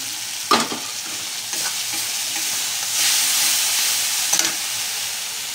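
Onion and ginger paste frying in oil for a Bengali pabda fish curry gives a steady sizzle, with a few scraping stirs of a spatula and a brief swell of hissing midway.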